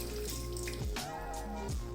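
Water poured from a garlic-ginger paste bottle into a cooking pot, a steady splashing trickle with a few gurgling drops, close and alone.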